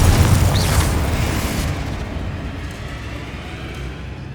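A Confringo blasting spell explodes in Hogwarts Legacy with a loud booming blast and rumbling roar that slowly decays over several seconds, no voices.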